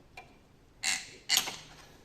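A screwdriver pries a spring out of an Audi A4 front disc brake assembly, giving a faint tick followed by two sharp metallic scraping clicks close up.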